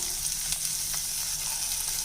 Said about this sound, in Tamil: இப்போ இது கொஞ்சம் நல்லா வதங்கி வரட்டும்.